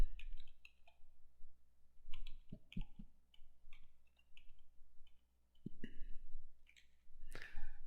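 A computer mouse gives a series of sharp, close clicks, scattered singly and in quick pairs across a quiet room, with a few soft handling sounds between them.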